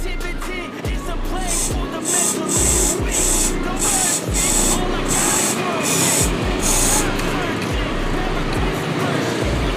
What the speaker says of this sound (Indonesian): Kalian tinggal semprot-semprotin gini.